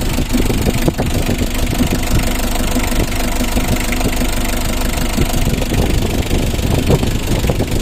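A 2017 Mitsubishi L300 FB idles close by with a steady low diesel clatter and knocking rhythm that holds evenly throughout.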